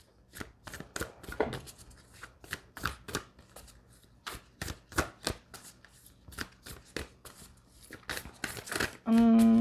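Moonology oracle cards are shuffled close by in irregular sharp riffles and slaps, ending with a brief steady tone.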